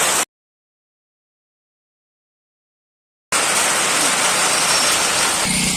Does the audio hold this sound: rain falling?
yes